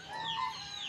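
A chicken clucks nearby in a short, soft burst of throaty calls, with no voices.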